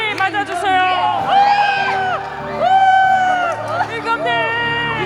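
Church Christmas play audience welcoming the king character with whoops, shouts and cheering crowd noise, loud and swelling in waves over a continuous bed of voices.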